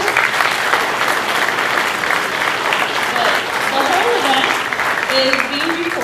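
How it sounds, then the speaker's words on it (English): An audience claps loudly and steadily for digital media students at an event, a dense close burst of applause with voices talking underneath. "So if we can give them a round of applause."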